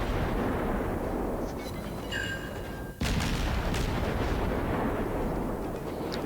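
Warship guns firing in the naval video game World of Warships, a loud, continuous rumbling barrage with a heavy boom near the middle, set against constant battle noise.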